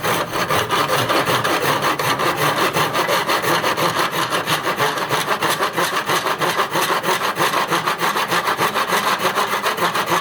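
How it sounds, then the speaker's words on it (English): A hand saw cuts through wood in a miter box, steady rhythmic back-and-forth strokes rasping loudly and evenly for the whole span, close up, with no talking. "It's usually easier to angle your saw a little bit to get your cut started."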